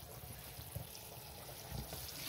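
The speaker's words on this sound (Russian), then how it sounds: "Теперь ее немножко промою водой." Water runs over cooked pearl barley as it is rinsed, a soft steady trickle and splash, faint and close, with no talking.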